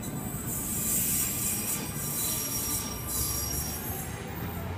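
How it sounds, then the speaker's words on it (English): A Sydney Trains M set departs a platform at Waverton, wheels squealing high and piercing, rising and falling over the low rumble of the cars. "M sets now departing platform number 2,"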